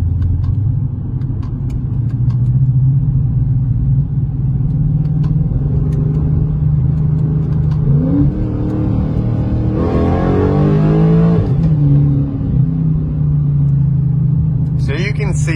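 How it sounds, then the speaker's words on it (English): Car accelerating on a back road in Mexico, a loud steady engine drone from inside the cabin that dips and rises again around a gear change to second, with continuous road rumble. "So I'm going to get up to 40 and then go into second here"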